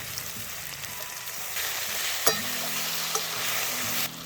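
Masala with ginger-chili paste and tomato sautés with potatoes in a pan, a close continuous sizzle with stirring scrapes and a couple of sharp spatula clacks against the pan, no talking.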